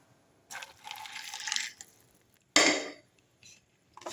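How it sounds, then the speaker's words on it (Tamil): Hot water pours over rajma beans in a hot pack container, a sustained close splash followed by a sharp clatter and a couple of small knocks. "சுடு தண்ணி வந்து இதில் ஊற்றிடலாம்"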